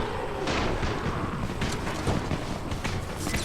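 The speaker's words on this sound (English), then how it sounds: "You still have some firecrackers, don't you? Just throw some into the crowd." Firecrackers exploding amid a crowd in the zombie game Dying Light, a dense run of sharp cracks and pops over a constant roaring din, loud and close, with no speech.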